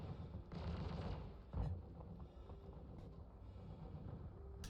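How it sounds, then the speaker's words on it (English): Distant gunfire in Star Citizen, muffled rumbling shots with one heavier thud, faint beneath a low ambient drone. "Someone's shooting at something."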